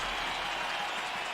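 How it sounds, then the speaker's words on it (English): A crowd applauds the victors in a video game arena scene, a short burst of steady, moderately loud clapping with no break. "let's hear a big round of applause for the victors"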